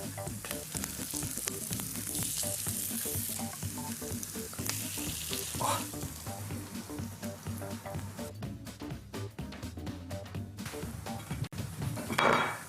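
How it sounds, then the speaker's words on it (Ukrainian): Steady sizzling of cabbage fritter batter frying in a pan over low heat, a continuous crackling hiss with occasional utensil clinks, fairly loud and close, with no talking. "я раджу такі оладки смажити на невеликому вогні"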